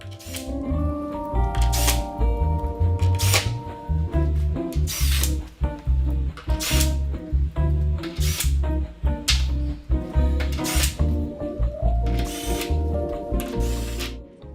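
A power drill whirs in repeated bursts while assembling a laminate desk, its motor revving up and down with sharp mechanical clicks between runs, loud and close.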